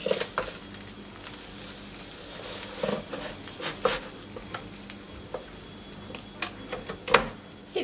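Dürüm flatbread frying in a pan with a steady close sizzle, scattered pops and spatters, and occasional scrapes as it is turned, with no voices.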